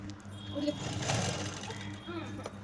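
A sewing machine whirs steadily while stitching a long frock, a continuous humming buzz running beneath someone talking throughout.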